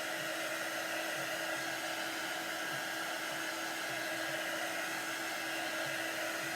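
A hair dryer blows steadily to dry chalk paint on a crafting project, a constant close, even whooshing hum that runs the whole time, with no talking.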